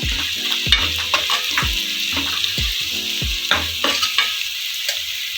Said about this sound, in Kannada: ಸ್ವಲ್ಪ ಕಲ್ಲು ಹೂವನ್ನು ತಗೊಂಡಿದ್ದೀನಿ, ಅದನ್ನು ಕೂಡ ಸೇರಿಸಿ ಫ್ರೈ ಮಾಡ್ಕೊಳ್ಳೋಣ